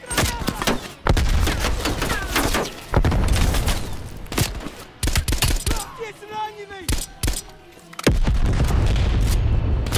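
In Call of Duty: Black Ops Cold War, a grenade explosion bursts amid rapid, loud gunfire and repeated booming impacts, with a heavy blast near the end over the chaotic firefight.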